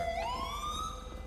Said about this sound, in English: Can you turn off your sirens, please, bro?